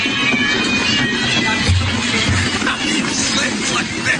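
Several cats meow over a noisy, busy background, with drawn-out cries blending into the commotion.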